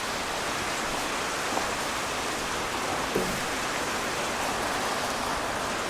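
Rain falling steadily into the open cab of a 1980 International dump truck, a dense even hiss of drops with no pauses, close and loud, and no voices.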